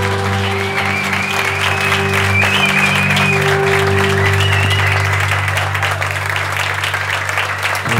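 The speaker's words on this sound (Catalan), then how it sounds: "Un aplaudiment pel Màrius" An audience claps for a guest author at a Catalan literary reading event, sustained applause under a steady hum and faint tonal sounds, continuing evenly throughout.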